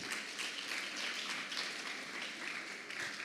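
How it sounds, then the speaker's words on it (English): Audience applause for a student speaker at a TED-Ed Student Talks event: steady, even clapping from a crowd across the whole moment, moderately distant and not very loud, with no voices over it. "Can we have one more round of applause for Yutika?"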